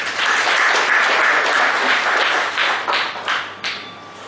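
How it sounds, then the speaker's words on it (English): An audience at a professional seminar on audit preparation applauds to welcome a guest speaker, steady dense clapping that tapers off toward the end into a few scattered claps. "Please welcome with a round of applause"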